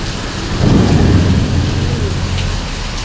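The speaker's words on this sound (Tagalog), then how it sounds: "Lakas ng ulan." Heavy rain pours down steadily while a deep roll of thunder swells and fades in the middle, loud and close, with no talking.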